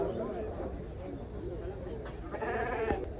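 Sheep and lambs bleat at the busy Kommunizm Friday livestock bazaar, with several overlapping calls rising above a steady murmur of crowd talk and market noise.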